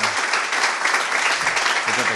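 An audience at a civic talk on citizenship rights claps for the mayor, a dense, continuous round of applause up close with a few voices beneath it.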